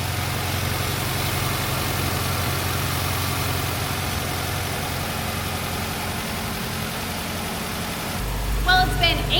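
A Honda Civic hatchback with an overheating engine idles with a steady, low, even hum that barely changes, and near the end a brief burst of nearby voice and clatter rises over it.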